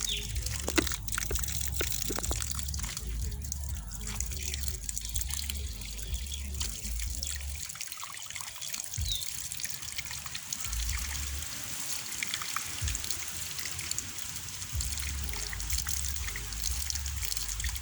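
Water runs steadily from a tap and splashes as feet are washed during ablution, right foot first, a continuous close trickle with no talk over it.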